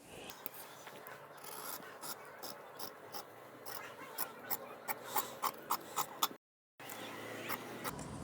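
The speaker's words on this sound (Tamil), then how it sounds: "இப்போ அதை அப்படியே கட் பண்ணிடலாம்" Blouse fabric being cut with scissors for tailoring, a run of short crisp snips in a steady rhythm, close and fairly quiet over a low hum, with a brief silent gap near the end.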